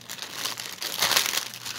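A large plastic bag from a pre-stamped cross stitch kit crinkles close up, a continuous rustling with a louder burst of crackling partway through.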